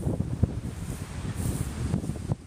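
Strong wind gusts across an open cemetery in Barrington, Illinois on a stormy Midwest day, a steady broadband roar with low buffeting thumps against the microphone, rising in a few louder gusts, no voices.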